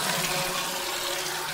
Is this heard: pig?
no